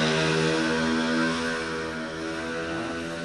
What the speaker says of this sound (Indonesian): itu motornya kencang banget